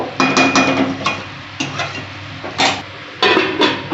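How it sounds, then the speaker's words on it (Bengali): Spices and slit green chilies are sautéed in a pan, with bursts of spatula scraping and clatter against the metal coming in quick, uneven strokes over a faint sizzle. "এবার আমি এটা একটু ভালো করে কষিয়ে নেব কষিয়ে ঢাকা দেব"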